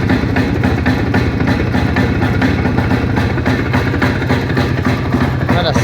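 A motorcycle engine running steadily nearby, a loud, continuous rumble with a faint pulsing rhythm that keeps going without a break.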